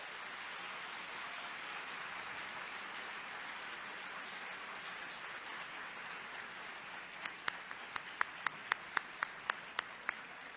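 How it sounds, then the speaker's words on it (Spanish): Steady applause from a distant audience at a talk on public education, soft and continuous, with several sharp individual claps standing out near the end. "Damos un aplauso, por favor."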